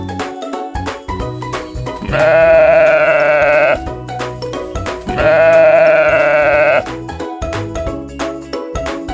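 A sheep bleats twice, loud and close. Each bleat is a long, wavering call of one to two seconds, set over a steady bed of jingling, tinkling music that plays before, between and after the calls.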